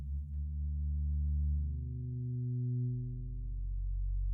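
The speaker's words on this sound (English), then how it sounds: "we're going to have a sine, and that can be okay. But sometimes it can be a little bit too pure" A pure sine wave tone from the VPS Avenger 2 synthesizer, a smooth, steady low hum with a second pitch sliding in partway through, sustained and clean with no voices.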